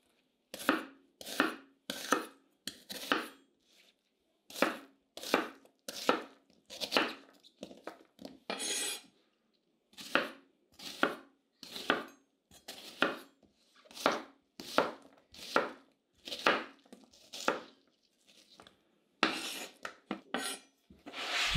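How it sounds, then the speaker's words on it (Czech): A knife chops a peeled onion into large cubes on a board, repeated quick bursts of crisp cuts in short runs separated by brief pauses, close up and without talk. "Cibuli oloupu a nakrájím na větší kostky."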